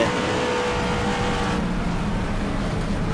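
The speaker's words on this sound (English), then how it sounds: "Let's listen into this engine sound." Race car engine in iRacing at Chicagoland, a steady loud drone of high revs held flat out throughout, with a slight shift in tone midway and no pause or lift.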